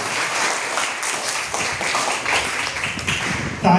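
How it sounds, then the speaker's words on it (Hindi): An audience at a dengue quiz with doctors claps steadily throughout, a dense, continuous rattle of many hands that stays fairly loud and even from start to finish. "इस सवाल के लिए जोरदार ताली"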